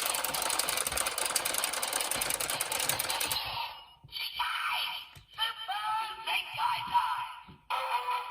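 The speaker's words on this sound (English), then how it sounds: "now we'll crank this again for the Super Zenkai time." Cranking the DX Zenkai Buckle toy belt from Kikai Sentai Zenkaiger: a dense mechanical whirring rattle for about three seconds, then a run of choppier clicks and electronic sound effects from the belt, loud and close.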